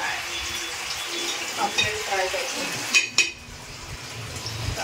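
Fish frying in a pan sizzles continuously while it is stirred, with a sharp metallic clank partway through and a brief lull in the crackle afterward.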